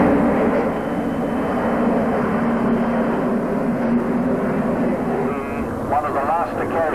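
Avro Vulcan jet bomber flying at the 1992 Humberside air show, a steady loud engine roar filling the whole stretch with a commentator's voice talking over it throughout.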